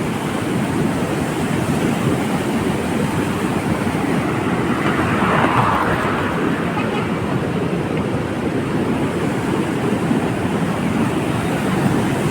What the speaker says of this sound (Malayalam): നന്നായിട്ട് ഷട്ടർ തുറന്നിട്ടുള്ളതുകൊണ്ട് ഇവിടെ നന്നായിട്ട് വെള്ളം പുറത്തേക്ക് കാണുന്നുണ്ട്